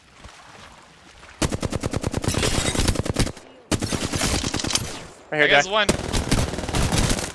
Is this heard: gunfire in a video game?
yes